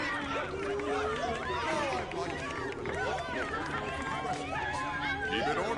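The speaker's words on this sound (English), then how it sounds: "We just gotta push through this crowd to get to Gabriel." Dense crowd chatter in Minecraft: Story Mode as a character pushes through a packed audience to reach Gabriel, a steady babble of many overlapping voices with footsteps and movement, loud and close.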